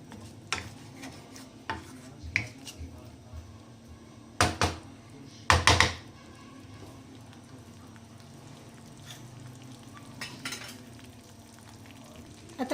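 Okra and onions fry in a pan with a low sizzle, broken by a few clanks of a spoon stirring against the metal and scattered kitchen knocks, with no talking.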